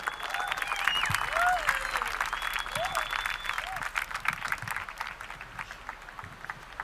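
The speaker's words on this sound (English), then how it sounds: "One more round of applause for the runner-up." An audience at the Billabong Pro Cascais surfing awards stage applauds the runner-up with a dense, loud burst of clapping that swells and then thins out, while a voice speaks over the start.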